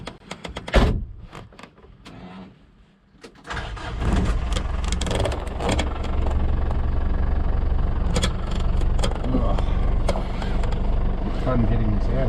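6x6 Perentie ambulance starting up, with a few clicks and clunks first, then a loud, steady diesel engine rumble as it idles and pulls away, with some handling noises over it.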